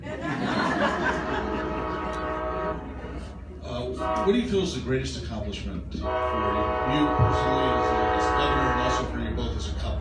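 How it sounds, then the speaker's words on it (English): A passing train sounds a long, loud horn in repeated blasts with a rumble underneath, while people talk over it and someone briefly chuckles. "That's the train again."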